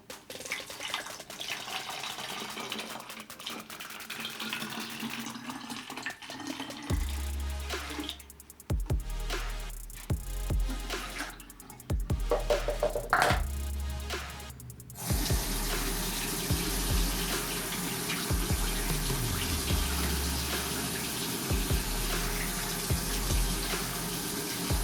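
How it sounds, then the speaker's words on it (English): Water from a tap pours into a plastic bottle, a gushing stream broken by several starts and stops, the pitch and splash shifting as the bottle fills, close and fairly loud. "Then you're gonna pour some water into the bottle till it's about halfway full."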